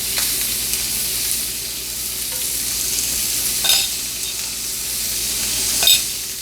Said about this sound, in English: you just want to cook them on each side just to get a little browning